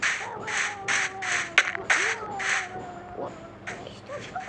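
A bird caws repeatedly in a prehistoric-era video game, sounding as a run of harsh, evenly spaced calls at moderate loudness with a few sharp clicks mixed in.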